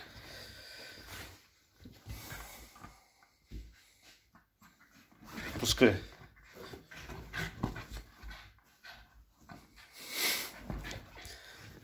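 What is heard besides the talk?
dog panting while tugging a hand towel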